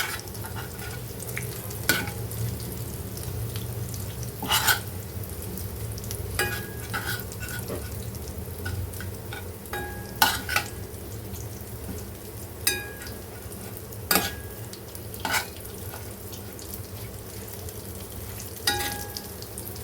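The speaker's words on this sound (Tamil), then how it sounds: "இது மாதிரி நல்லா திருப்பி போட்டோம். நல்லா 2 பக்கமும் ரோஸ்ட் ஆகணும்." Homemade snack pieces pan-roast in a little oil with a constant crackling sizzle, broken by sharp clatters and scrapes as they are turned over at irregular intervals.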